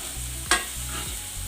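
Potato pieces frying in a pan for aloo fry, a soft steady sizzle with a sharp stirring scrape partway through and faint rhythmic stirring, no talking.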